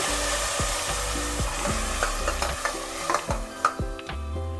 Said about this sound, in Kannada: ಚೆನ್ನಾಗಿ ಈ ಥರ ಸಿಮ್ಮಲ್ಲಿ ಹುರಿದ್ಮೇಲೆ ಇದು ಕಲರು ಚೇಂಜ್ ಆಗುತ್ತೆ.